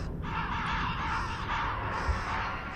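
Crows caw in a dark underworld setting of the game Shadows of the Damned, a few harsh, drawn-out calls in quick succession, clear and fairly close with no talking over them.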